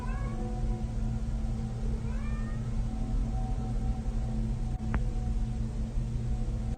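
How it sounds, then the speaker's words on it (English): A cat meows in a short Snapchat recording, giving a few faint, wavering cries over a steady background hum and hiss. "she notices her cat is meowing, like it's looking for its companion"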